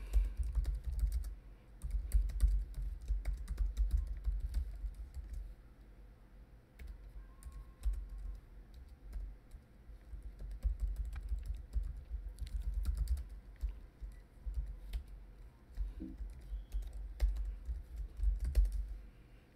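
Code being typed on a computer keyboard, a steady stream of soft, irregular keystroke clicks at close range with occasional pauses, over a low background hum and no talking.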